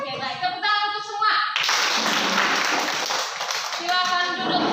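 Sustained applause from an 8th-grade class fills the classroom for a couple of seconds, framed by a teacher speaking before and after.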